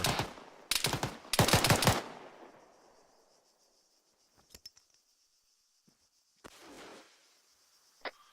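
A loud close burst of automatic gunfire in a tactical military op, several rapid volleys that ring out and decay into quiet, followed by a few faint distant shots and clicks.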